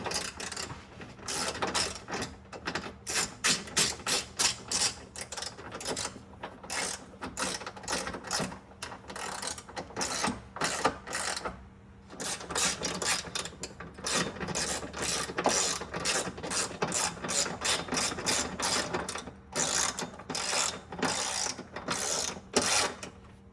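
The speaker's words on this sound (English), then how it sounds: "So tighten the back ones down here, 10 millimeter." A ratchet wrench tightens 10 mm bolts on a Horizon Motorsport oil cooler guard under a BMW F8x M3/M4 with the S55 engine, giving long runs of fast, close clicking that pause briefly and resume.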